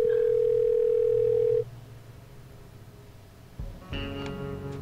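A steady telephone dial tone plays while a call is placed in the point-and-click game Thimbleweed Park. It is loud and continuous for about a second and a half, then cuts off and gives way to faint clicks and electronic line sounds.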